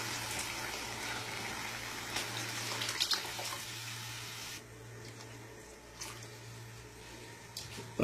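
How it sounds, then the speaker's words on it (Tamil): Water pours steadily from a tap into a pot of soaking rice and fenugreek, a continuous splashing rush that stops partway through, leaving quieter kitchen sounds and a brief thump at the end. "அது கூட வந்து 3 கப்பு தண்ணியை ஆட் பண்ணிக்கணுங்க"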